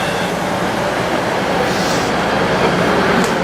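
Class 153 diesel railcar at Lancaster station on a day out along the Settle & Carlisle route, heard as a steady, loud, continuous rumble and hiss of train noise with no talking.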